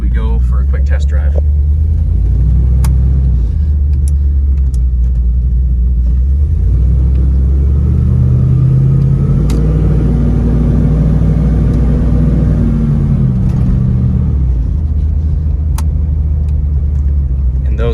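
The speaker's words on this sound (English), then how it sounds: "we'll select overdrive there as we go for a quick test drive." A 1984 GMC Jimmy Sierra Classic on a highway test drive in overdrive, its engine a steady loud low rumble from inside the cab, with the pitch rising and falling through the middle as it pulls along.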